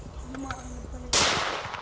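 A single sharp, loud gunshot from a gun fired at a target, cracking out after a quieter stretch with a hiss trailing off behind it.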